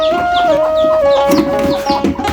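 Chickens cluck in a busy flock nearby, with a steady tonal drone running underneath the whole time.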